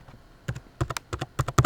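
Keys on a computer keyboard clatter in an uneven burst of about a dozen close, crisp taps while entering router setup details, with no talk.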